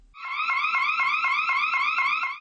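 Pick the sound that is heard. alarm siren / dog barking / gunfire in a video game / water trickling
alarm siren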